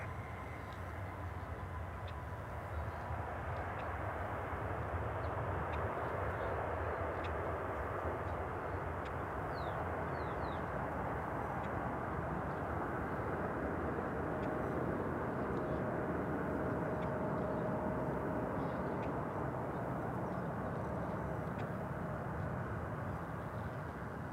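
A Cathay Pacific heavy jet takes off from runway 18 left at DFW, heard as a loud, continuous, broad engine roar that holds steady and slightly swells over the whole stretch.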